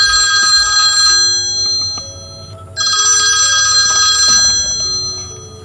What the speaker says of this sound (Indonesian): Suara dering telepon terdengar memenuhi ruangan.